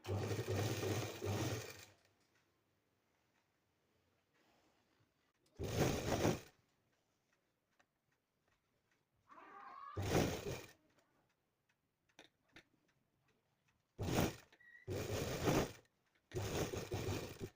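A sewing machine stitches fabric for a baby girl's skirt in short loud bursts of rapid mechanical whirring, separated by quiet pauses with faint ticking and handling clicks.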